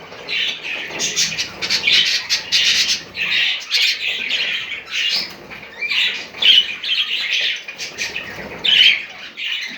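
About fifteen budgerigars in a home aviary chirp and squawk together, a dense, loud, near chatter of shrill calls that rises and falls in bursts without pause, with no voices.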